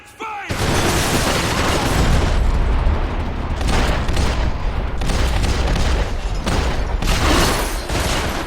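Gunfire erupts in Max Payne 3 after a brief quiet start, loud sustained bursts of shots and booms that barely let up, with shouting voices mixed into the chaos.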